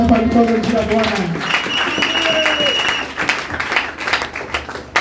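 Congregation clapping and cheering in a church service, a dense wash of applause running throughout with voices mixed in.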